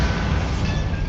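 A Bombarda spell explosion in Hogwarts Legacy, a steady, heavy rumbling roar that is fairly loud and even from start to finish.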